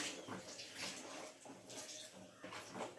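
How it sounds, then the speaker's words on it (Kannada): Water pours and splashes into a pot in uneven gushes, close by and fairly quiet, with no voices. "ಹಾಗೆ ನೀರು ಹಾಕ್ತಿದ್ದಾರೆ."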